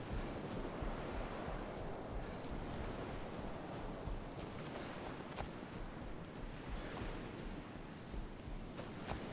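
Sea waves in the survival game DayZ, a continuous broadband wash of surf with wind noise, steady and fairly loud throughout, with no talking.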